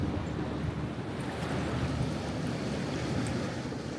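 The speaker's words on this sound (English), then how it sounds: "We're on the Seine River, going past the Eiffel Tower." A tour boat cruises along the Seine River past the Eiffel Tower, giving a steady low engine rumble mixed with wind and water rush, continuous and fairly quiet.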